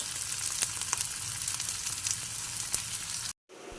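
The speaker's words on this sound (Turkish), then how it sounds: "Şimdi bir miktar yine sıvı yağ ekleyelim. Biraz da tarafı kızarsın." Close, steady sizzling of collard green flowers frying in hot oil with scattered pops and crackles, cutting off abruptly near the end.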